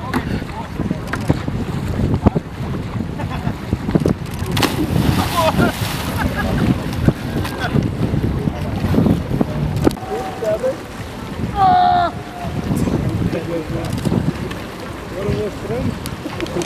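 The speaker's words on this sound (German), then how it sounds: "V8 5 Liter und 250 PS." A motorboat with a 5-litre, 250 hp V8 engine runs on a lake, its low engine drone blended with heavy wind buffeting and water noise; a brief whistle-like tone cuts through near the end, and voices talk over it.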